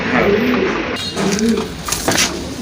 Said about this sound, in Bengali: আরেক জোড়া রাজগোল্লা কবুতর